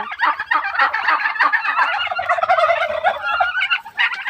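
Turkeys gobbling on a farm in Shariatpur, loud rapid rattling gobbles from several birds overlapping throughout, close by and with no talk.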